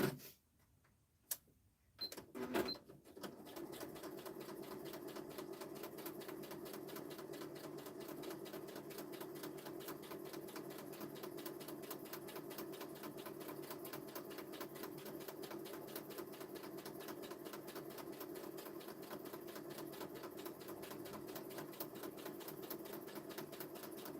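A sewing machine stitches around the edge of a craft piece, starting after a few brief knocks and then running as a steady, fast, even mechanical chatter that continues at a constant pace to the end.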